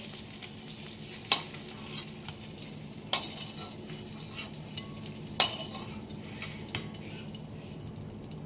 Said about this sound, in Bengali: ডিম ভাজা হয়ে গেছে, এখন ডিমগুলো তুলে নেব।